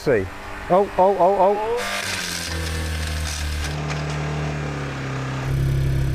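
A BMW car engine runs at a steady idle after a few sharp revs, in an engine endurance test alongside Mercedes and Audi engines, its continuous low drone holding loud and close with a harsher rise near the end.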